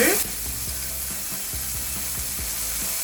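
Onions stir-fry in a pan with soy sauce, oyster sauce and sugar, giving a steady close sizzle with soft rhythmic scrapes of a utensil repeating throughout.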